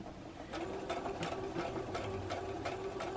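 A sewing machine running slowly while blanket stitching an appliqué, a steady mechanical hum with evenly spaced clicking needle strokes, about three per second, close and fairly quiet.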